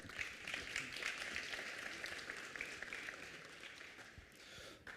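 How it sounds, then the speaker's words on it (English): A conference audience at an energy-day event claps for a speaker coming on stage, with steady, moderately distant applause lasting throughout and tapering slightly near the end. "A big applause for Stefan."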